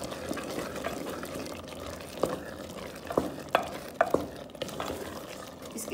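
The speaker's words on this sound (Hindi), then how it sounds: "और ये लहसुन का पाउडर, इसको करेंगे हम मिक्स।" Spoon scrapes and soft wet stirring sounds as garlic powder is mixed into cooked black chickpeas in a pot, a series of irregular close clicks and scrapes over a quiet background.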